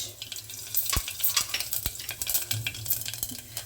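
Panch phoron seeds hit hot white oil in a pan for a beet and carrot curry, crackling and sizzling steadily with a few sharp pops and scrapes of a spoon; no one speaks.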